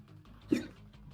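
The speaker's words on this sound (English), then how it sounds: "I got the hiccups." A single short hiccup bursts out midway through a brief quiet stretch, close to the microphone, with faint background hum around it.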